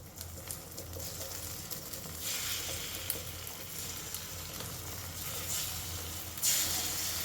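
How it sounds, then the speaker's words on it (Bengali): Beaten egg hits hot oil in a pan over a high flame, giving a steady, close sizzle and hiss that stays fairly soft and even, with a brief flare of crackling near the end. "এবারে ফেটিয়ে রাখা ডিমটা এর মধ্যে দিয়ে দিচ্ছি।"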